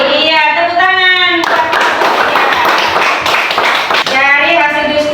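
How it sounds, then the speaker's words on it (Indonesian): Classroom of students clapping hands together in a burst of applause, framed by a voice speaking before and after, fairly loud and close. "Iya, tepuk tangan."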